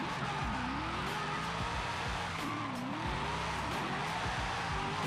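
A V8-swapped Nissan 350Z drifting in Forza Horizon 5, its engine revving up and down in repeated surges while the tires squeal and skid continuously, with no speech.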